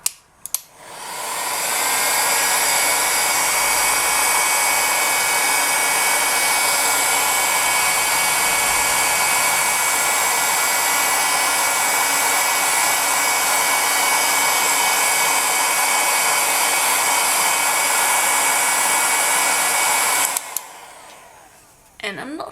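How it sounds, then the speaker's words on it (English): Hair dryer running steadily for about twenty seconds to dry ink on polymer clay, a loud close whooshing whine that starts abruptly, holds constant, then cuts off, no voices. "you can use a hairdryer or the lowest setting on your heat gun to gently dry it"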